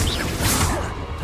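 A Confringo spell cast in Hogwarts Legacy: a single loud, dense whooshing burst with a crackling, explosive impact that sweeps up and fades within about a second.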